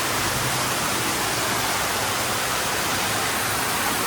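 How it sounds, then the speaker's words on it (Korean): An artificial waterfall pours into a guesthouse swimming pool in Vietnam, a loud, steady, broadband rush of falling water with no other sounds or voices. "저 혼자 수영을 열심히 하니까 폭포까지 풀어주셨습니다"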